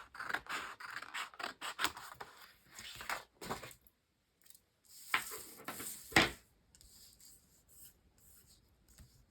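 Scissors cut paper for a handmade paper rose hair accessory, giving a series of close, crisp snips and rustling paper scrapes with short pauses between cuts.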